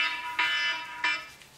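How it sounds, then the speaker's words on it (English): A phone alarm reminder goes off during a high school football pregame and coach's show, sounding as repeated bright electronic alarm tones in pulsing bursts, fairly loud, with no talk over it. "That was an alarm for me."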